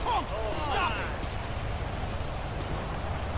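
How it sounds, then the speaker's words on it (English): Steady rain falls in GTA 5, a constant hiss over a low rumble, with a voice speaking briefly at the start. "I feel like I'm in the rain right now, y'all."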